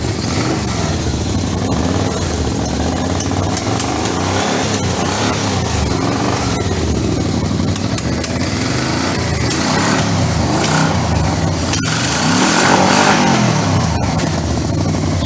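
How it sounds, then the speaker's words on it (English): A 1985 Yamaha Venture Royale motorcycle engine with a lean-running fault idles and revs unevenly, loud and close, with the engine note swelling and dropping over fifteen seconds and no clear distinct backfire pops. "Still backfires. I think it's still running too lean."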